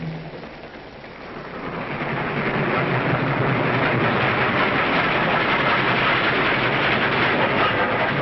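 Steady, heavy rumbling roar of a train rolling along, building in the first two seconds and then holding loud and continuous with a rattling texture.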